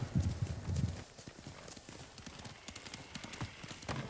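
Horse hooves clip-clop steadily while riding in the samurai game Ghost of Tsushima, a close rhythmic trot with heavier thuds at the start, under a faint bed of ambient background sound.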